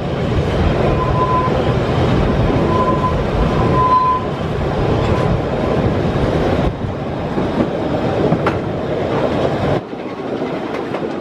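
Narrow-gauge train on the Weißeritztalbahn crossing the 191-metre viaduct over the Pöbeltal before entering Schmiedeberg station, a steady loud rumble with rhythmic wheel clatter and brief tonal whistles or squeals, continuous throughout.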